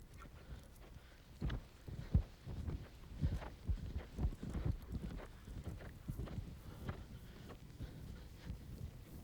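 A horse's hooves clip-clop in a steady rhythmic gait while being ridden toward a jump in equestrian training, the hoofbeats close and moderately loud with no talk over them.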